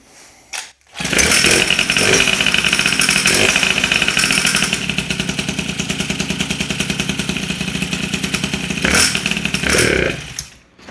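An MBK 51 moped's two-stroke engine with an SHA carburetor buzzes steadily at high revs for about ten seconds after a brief start, loud and close with a rough rasping tone and a dip near the end.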